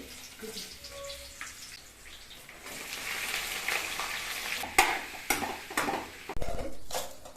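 Cumin, chana dal and onion sizzle in hot oil for a tempering, with a spoon stirring and clattering against the pan, sporadic sharp clinks over a steady frying hiss.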